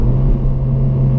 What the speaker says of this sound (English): the engine gets up to the right revs and goes in the 2nd gear